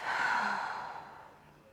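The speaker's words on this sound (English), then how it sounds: "A few more of those letting go breaths." A deep, relaxed exhale during a yoga breathing practice, one long breathy release that starts full and gradually fades away, close and alone without speech.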